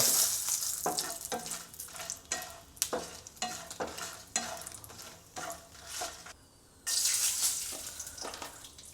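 Whole spices, cloves, cardamom and byadgi chillies, sizzle in hot oil in a pan while a spoon stirs them, giving a steady crackling fry broken by regular scraping strokes.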